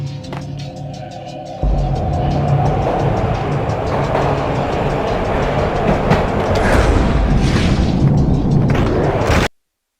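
A train ride in the video game Max Payne: a low rumbling rolling roar with rattling, clanking bursts, swelling louder after a short quieter opening and ending abruptly.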